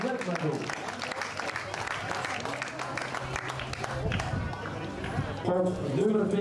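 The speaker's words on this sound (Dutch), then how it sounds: "Een spontane applaus en de fietsen." Spontaneous applause rises from a crowd at a youth cycling podium ceremony in Beringen, brisk scattered clapping mixed with voices, crowd noise and a public-address announcer speaking over it.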